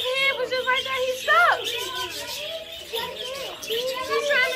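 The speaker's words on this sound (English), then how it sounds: "Anthony, it's a stuck bird" A bird trapped and stuck outdoors chirps in quick repeated calls while people talk excitedly close by, their voices largely covering the birdsong.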